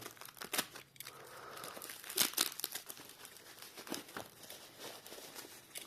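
Packing tape is torn and peeled off a tightly wrapped parcel holding a Christmas tree ornament, with close crinkling and ripping bursts throughout and a few louder tears.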